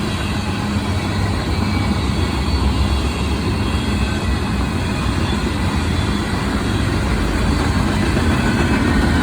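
A freight train led by a Norfolk Southern locomotive with a Union Pacific unit trailing rolls past at Berea, giving a loud, continuous low rumble of engines and wagons that holds steady throughout, with no horn standing out.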